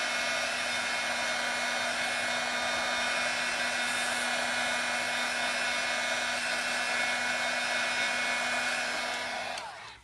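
A hot embossing heat tool blowing air to dry a cone, a steady loud hair-dryer-like whir with a constant hum that runs unbroken and cuts off at the end.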